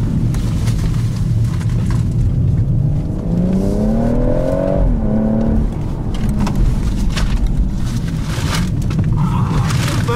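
A BMW M140i drives on a road, its engine droning steadily throughout, with a rising then falling pitch sweep in the middle as it accelerates and eases off, heard from inside the car and fairly loud.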